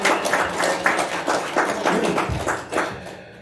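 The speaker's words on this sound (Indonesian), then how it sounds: "Tepuk tangan untuk Bung Victor Mayangkai" Applause from a crowd at a youth organisation meeting, heard over a video call as a steady run of dense clapping that stays at a fairly even level with slight swells and fades out at the end.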